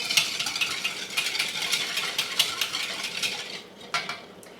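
A utensil scrapes and clinks steadily against a bowl as a pickled egg brine mixture with lime is stirred, close up, with a brief pause near the end and no talking.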